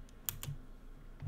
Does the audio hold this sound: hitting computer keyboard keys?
yes